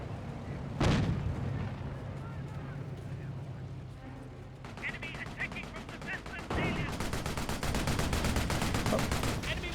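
Panzerschreck rocket fire in the video game Company of Heroes, a sharp loud launch blast followed by a sustained rattle of battle gunfire and explosions, with voices talking throughout.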